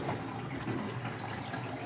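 A utility sink faucet runs cold water in a steady, even stream, a soft continuous splash and hiss without talk, fairly quiet and close.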